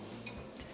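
Food sizzles and rustles as it's tossed in a hot pan, a brief close shuffle over a steady frying hiss.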